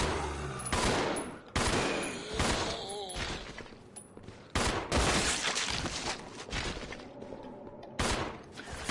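Rapid bursts of gunfire in the Resident Evil 0 video game, with loud repeated shots separated by short pauses and brief gaps of quieter sound, heard up close.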